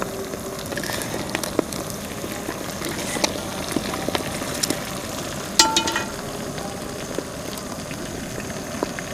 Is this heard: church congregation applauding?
no